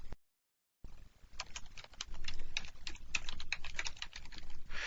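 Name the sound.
typing code on a computer keyboard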